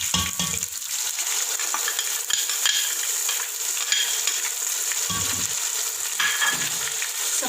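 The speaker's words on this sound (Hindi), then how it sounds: "इनको थोड़ा सा भूनेंगे। अब मैं इसमें ऐड करूँगी टमाटर का पेस्ट," Cardamom, cloves and tomato paste frying in a pot while being stirred, with a steady sizzle throughout and intermittent scraping stir strokes, close and fairly loud.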